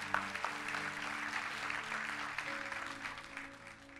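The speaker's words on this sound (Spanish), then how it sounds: "Denle un fuerte aplauso a Dios por eso" Steady applause from a church congregation fills the space, sustained clapping under a faint organ-like tone, gradually tapering toward the end.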